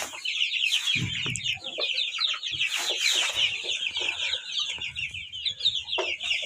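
A constant high chorus of peeping incubator-hatched chicks fills the space, with lower clucks from chickens scattered underneath. It is close and busy, with no voices.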